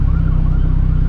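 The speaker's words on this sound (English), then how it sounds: "Oh, that's the freaking ambulance. I thought it was the cops." Ambulance siren wailing loud and close on a cold night street, a steady rising-and-falling tone heard on its own for about a second.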